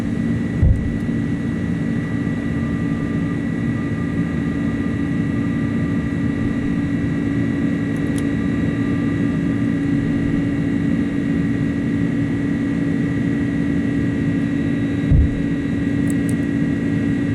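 Airbus A300-600 jet engines climb out after takeoff in a flight simulator, giving a steady, loud, continuous roar with a low rumble and a faint high whine. Two brief thumps stand out, and there is no talking.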